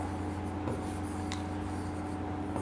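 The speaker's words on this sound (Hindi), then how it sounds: "यहां लिखते हैं इसको" Chalk or marker scratches a name onto a classroom board during a lesson, giving a few short, faint, close strokes over a low steady room hum, with no voices.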